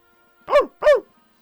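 A human voice imitates a dog with two short, clear barks spaced evenly apart, loud and close against near silence.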